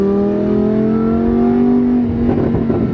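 A Lamborghini engine revs under acceleration, a loud, steady rising whine with a strong engine drone that builds and holds close by for about three seconds, with no talking.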